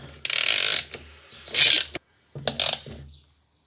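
A ratchet tightens the OEM nut on the fan of a C4 Corvette, giving three short bursts of close, crisp clicking separated by pauses, with no talk.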